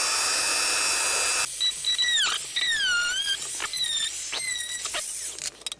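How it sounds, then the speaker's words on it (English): A power tool drives a screw into a candy dispenser build, giving several close, squealing whine bursts that rise and fall in pitch, separated by brief pauses, with no speech. "So I'm just going to screw right between those 2 screws."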